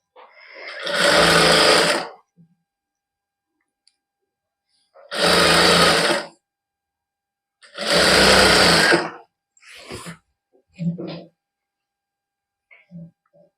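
A sewing machine stitches lining onto a kameez in three loud, steady bursts of about a second each, separated by pauses, followed by a few shorter stutters.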